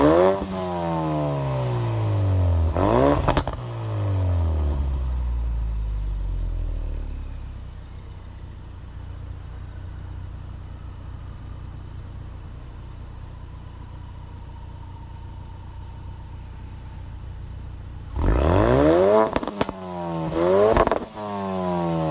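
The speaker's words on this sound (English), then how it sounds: "Now we're going to take a quick listen to the exhaust." Exhaust of a 2017 Ford Focus RS EcoBoost, loud revs rising and falling at the start, settling into a steady idle burble, then several sharp blips of the throttle near the end.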